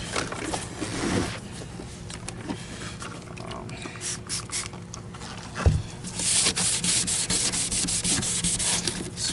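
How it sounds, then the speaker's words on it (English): Scrubbing on a vintage Electrolux Marquise 1521 "Super J" vacuum cleaner gives repeated rough rubbing strokes at close range, uneven in rhythm with one sharp knock midway, and no talk. "Scrubbing this up the best we can."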